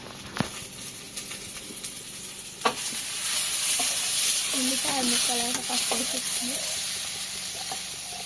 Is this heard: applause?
no